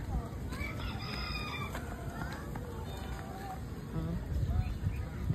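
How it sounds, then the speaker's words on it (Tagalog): Birds chirping and a rooster crowing at an eco park in Meycauayan, Bulacan, high calls scattered through the clip over outdoor ambience, with people talking nearby. "May mga ibon sasalita doon."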